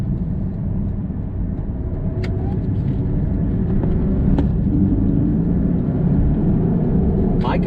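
A 2018 Porsche Cayman cruises in normal mode, its engine a steady low hum under continuous road and tire noise heard from inside the cabin, with no talking.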